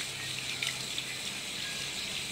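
Hands washed under a running kitchen or bathroom tap: a steady, close hiss of flowing water splashing into a sink, continuous throughout with no voices.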